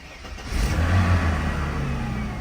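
A late-model car engine, started for the first time in about a month, turns over and catches, rising to a steady running rumble that holds close and loud to the end.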